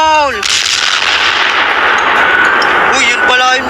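A powerful New Year's firecracker bursts with a loud, sharp blast that rolls into a long, noisy roar, with voices briefly heard at the start and end.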